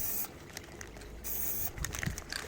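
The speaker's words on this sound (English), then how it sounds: "Start with just like little splatters, and then eventually you can go to like the full spray." Short bursts of spray paint hiss onto a game controller, two longer sprays with soft sputtering splatters between them, close by and with no talking.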